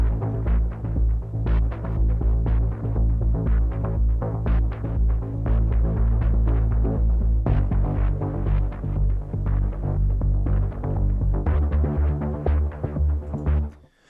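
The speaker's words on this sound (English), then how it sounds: "Now, I'm going to use the first bass" A Heavyocity Gravity 2 pulse bass patch plays alone: a loud, rhythmic throbbing low bass with rapid repeated pulses that shift pitch a couple of times before stopping abruptly at the end.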